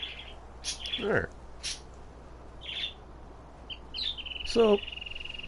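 A pet budgie gives a few short, high chirps and trills, spaced irregularly across a quiet background, fairly faint and close by.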